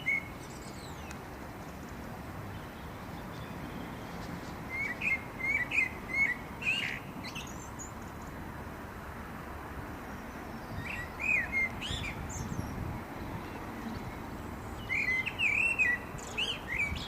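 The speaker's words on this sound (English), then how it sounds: "That's the blackbird." Blackbird singing at dusk over a kitchen garden, several short, fluting phrases spaced apart at moderate distance above a steady outdoor hiss.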